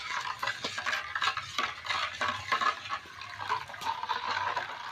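Coconut milk being stirred with cardamom powder and salt, a steady liquid swishing with light spoon scrapes and clinks against the vessel, close and continuous without talk.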